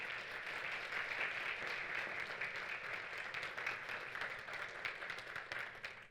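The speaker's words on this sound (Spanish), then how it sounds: "Un aplauso para Viviana," Audience in a lecture hall applauding a speaker named Viviana, a continuous, even patter of many hands clapping, faint and somewhat distant, tapering off at the very end.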